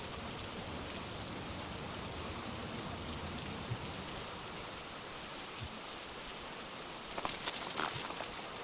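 Steady, even rainfall in a video game hisses throughout, with a few faint crunchy clicks and taps near the end.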